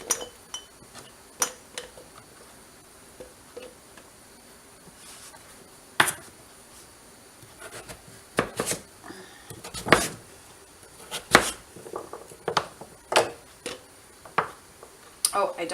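Butternut squash pieces drop into glass canning jars with scattered clinks and knocks of glass. The clinks come in bursts that grow busier toward the end, and someone talks quietly in between.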